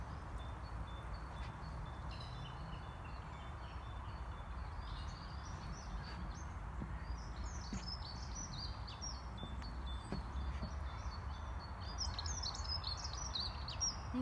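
Birds chirp and sing repeatedly in the distance during an afternoon outdoor walk, with scattered high calls over steady low ambient rumble and occasional soft footsteps.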